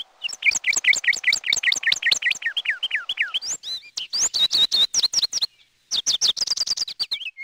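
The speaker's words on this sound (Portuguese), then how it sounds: "música só mesmo dos pássaros." Small birds sing nearby in a quiet setting with no music, loud and clear, pouring out rapid, repeated high chirps and trills in quick runs with brief pauses between phrases.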